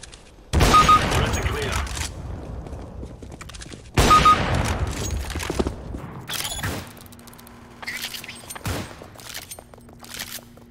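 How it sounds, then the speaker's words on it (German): A flashbang grenade bursts in CS:GO: two sharp, loud blasts a few seconds apart, each trailing into ringing noise, followed by scattered clicks, mechanical clatter and quieter impacts. "Deploying flashbang."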